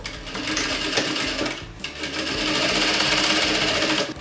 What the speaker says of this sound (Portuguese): agora nós vamos para a máquina e vamos costurar aqui em todos esses riscos e na tampa também